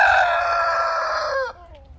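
Rooster crowing sound effect: a single loud, close cock-a-doodle-doo held for about a second and a half, then breaking off with a short trailing squawk.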